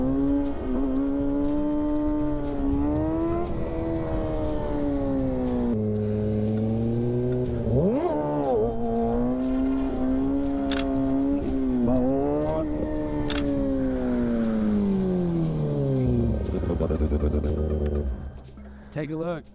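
Motorcycle engine revving hard during wheelies, with repeated rising and falling rev sweeps, close and loud, and voices talking over it.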